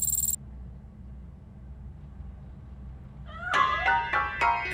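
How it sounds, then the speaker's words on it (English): A cat hiding inside a piano in Robocop: Rogue City meows several times in a short burst of rising, wavering cries near the end, after a long near-silent stretch. "That cat must be hiding inside."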